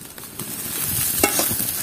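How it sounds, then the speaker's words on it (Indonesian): Water at a rolling boil in a cooking pot, ready for long beans, giving a steady loud bubbling and hissing roar with a few sharper pops, without any voices. "airnya sudah mendidih"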